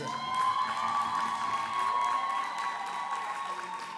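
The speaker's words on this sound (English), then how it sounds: "you make them welcome and you keep that applause going with lots of excitement" At a public sector debate competition grand finale, an audience applauds and cheers as a team captain is introduced, with steady clapping and a few whoops carrying through a large hall.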